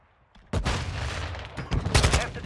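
Gunfire in Modern Warfare II: a sudden loud burst erupts after a quiet moment and carries on as sustained rattling shots with heavier impacts near the end, close and dense.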